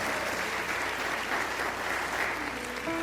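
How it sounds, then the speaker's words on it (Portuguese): Sustained applause from a church congregation during a worship service, steady and dense clapping filling the whole stretch at even loudness. "Dê um forte aplauso"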